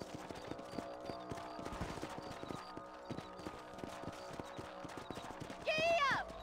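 Horse hooves clip-clop steadily in the Western video game Red Dead Redemption, a regular trotting rhythm of close, clear hoofbeats over game music, ending with a horse's whinny.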